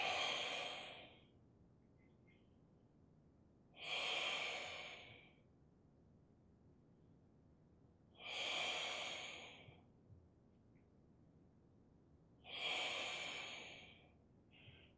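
Slow, deliberate breaths repeat four times, each a soft airy rush separated by several seconds of quiet, close to the listener.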